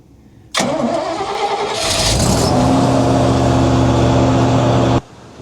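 A sawmill engine cranks briefly, then catches and fires up, revving before settling into a loud, steady idle that runs for several seconds and then cuts off abruptly.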